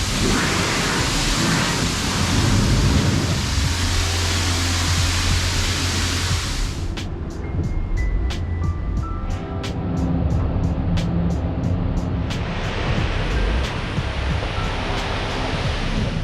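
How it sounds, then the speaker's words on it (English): Water sprays hard onto a car during a quick wash, a loud continuous hiss that cuts to sputtering bursts midway before the steady spray resumes. "we don't remember the last time we washed Fran's car, so it's gonna wash that real quick."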